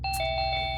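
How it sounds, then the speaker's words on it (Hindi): An indoor doorbell chimes with clear ringing electronic tones over a steady low hum, loud and close, with no voices. "घंटी चलाएगा क्या?"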